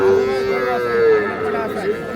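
A single loud, drawn-out moo from a bull or calf at an outdoor cattle market, close by, with faint crowd murmur beneath.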